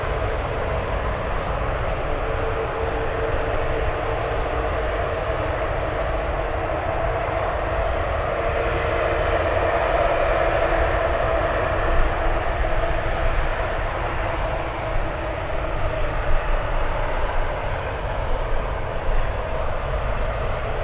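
An Airbus A380 taxis at San Francisco International Airport, its engines giving a steady, loud broadband roar that holds level throughout with no talk over it.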